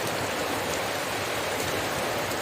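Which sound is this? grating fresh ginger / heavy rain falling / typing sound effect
heavy rain falling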